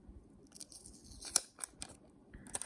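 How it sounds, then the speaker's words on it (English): Protective paper is peeled and torn off OnePlus Buds Z earbuds, with close, quiet crinkling and several sharp crisp rips in irregular bursts. "Let's peel off the paper."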